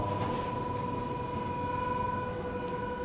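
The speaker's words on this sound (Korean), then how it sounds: "열차가 이제 출발합니다." Nankai Rapi:t limited express train pulling away from the platform, heard from inside a car as a steady rolling rumble with sustained tonal hums throughout.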